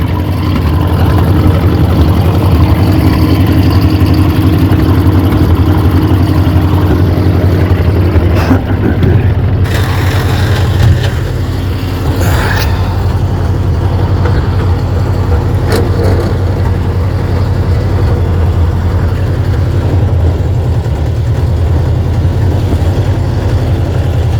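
A neglected, long-forgotten 1950 Ford with a flathead V8 runs with a loud, steady low rumble and a few clanks and knocks partway through.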